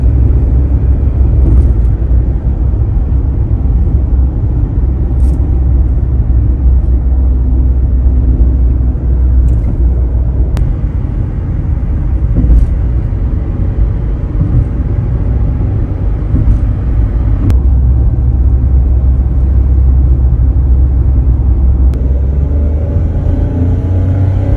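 A steady low engine rumble fills the cabin of a gasoline car on the move, continuous and fairly loud, with occasional faint clicks and no voices.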